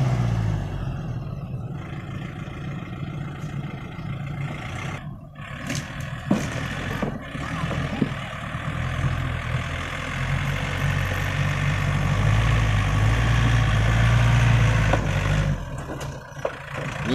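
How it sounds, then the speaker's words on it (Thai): Tractor engine running while being driven in a procession, a steady low rumbling drone that stays loud and close throughout, with a few short knocks and rattles over it and no talking. "นี่ครับในหน้าผมขับรถไถด้วย"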